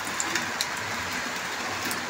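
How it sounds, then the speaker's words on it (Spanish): Rain falls steadily at night in a rural outdoor setting, a soft continuous hiss with scattered faint drip ticks, heard alone and evenly throughout. "como han escuchado que está lloviendo"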